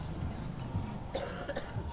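A few short coughs break through a low, steady street murmur in Dotonbori, Osaka, one sharper burst partway through, close to the listener.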